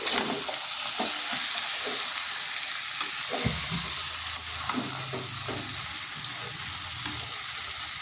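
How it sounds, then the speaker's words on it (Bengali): Bottle gourd being stirred into chana dal in a hot pan: a loud, close, continuous sizzle with repeated scraping strokes of the spoon and no talk. "এরপর এখানে দিয়ে দিচ্ছি লাউগুলো। লাউটা ভালোভাবে মিশিয়ে নিচ্ছি।"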